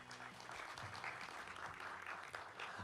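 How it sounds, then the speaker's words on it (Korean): Audience clapping at a Korean conference session on social innovation, welcoming a speaker to the stage; steady, fairly faint applause from a crowd, continuous throughout with no talk over it. "박수로 맞아주십시오."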